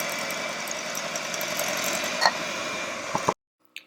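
An electric hand beater runs steadily on low speed through cupcake batter of vanilla mix and milk, giving a continuous mechanical whir that cuts out abruptly, followed by a faint brief click.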